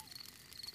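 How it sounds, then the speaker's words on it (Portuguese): Crickets chirp outdoors at night near a campfire in a cartoon, a faint continuous high trill with short repeating pulses, steady and soft with no voices. "São os grilos criquilando, Peppa."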